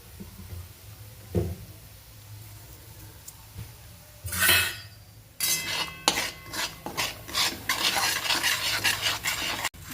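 Garlic-seasoned puffed rice is stirred in a pan, starting with a few sparse scrapes, then turning into busy rustling and scraping with metal clinks and light sizzle, close up with no voices.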